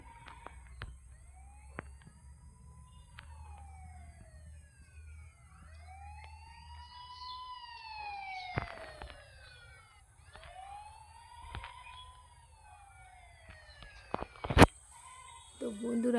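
A police car siren in a motorbike video game wails in repeated rising and falling sweeps over low engine rumble, fairly clear, with a sharp crash-like burst near the end.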